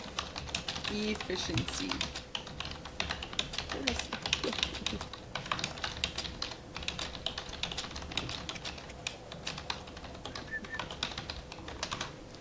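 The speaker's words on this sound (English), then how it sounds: "That's some anger typing right there." Fast typing on a computer keyboard, a steady rapid stream of clicks and taps running throughout, close and fairly quiet, with people talking over it.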